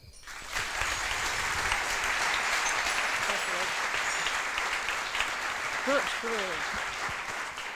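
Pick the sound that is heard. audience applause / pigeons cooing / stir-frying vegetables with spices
audience applause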